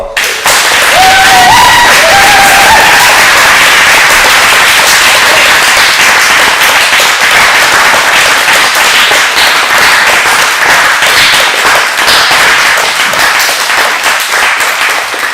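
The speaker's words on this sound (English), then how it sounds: "give Alex another round of applause" Theatre audience applauding loudly after a play at a festival, a thick continuous burst of clapping that swells at once and stays strong for the whole stretch, with a few faint voices mixed in early.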